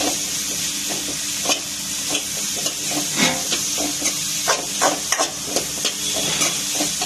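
Fennel seeds and cardamom frying in hot oil for a Diwali lunch, a steady close sizzle and hiss broken by repeated scraping stirs of a spoon in the pan, with no voices.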